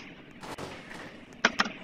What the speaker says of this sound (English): I shot at him! Wait, I'm still shooting.